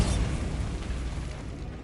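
A Bombarda spell blast in Hogwarts Legacy, a heavy, rumbling explosion with a strong low boom that trails off into a noisy wash over less than two seconds, loud and close.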